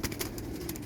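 A Teddy pigeon, a breeder bird kept for sale, gives soft low cooing that runs steadily through the moment, close and fairly quiet, with no talk over it.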